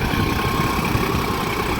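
A tractor pulling a duck foot plough in low gear gives a steady, loud engine drone with a low rumble and no break across the moment.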